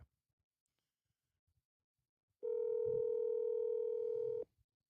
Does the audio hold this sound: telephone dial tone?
yes